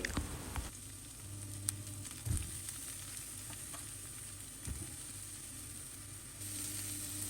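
Green chilies and brinjal pieces sizzle steadily in a tablespoon of hot oil in a pan, a continuous close frying hiss with a few stirring clinks and scrapes.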